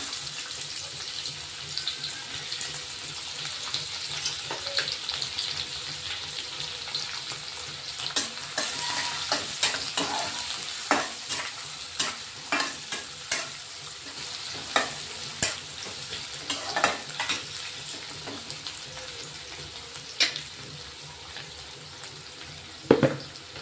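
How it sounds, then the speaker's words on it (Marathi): Finely chopped onion frying in hot oil with mustard seeds and cumin, a steady sizzle running throughout with scattered scrapes and clicks of a spoon stirring the pan, close and moderately loud, with no talking. "टाकून घेतोय कांदे पटकन शिजतील"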